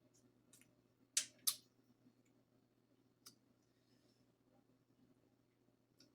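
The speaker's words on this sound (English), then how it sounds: "we're going to get this cracking with the help of our scissors" Kitchen scissors crack seafood boil shells in two sharp, close snaps in quick succession, then a fainter click later, over a low steady hum.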